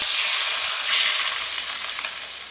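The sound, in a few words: hot spice tempering sizzling on vegetables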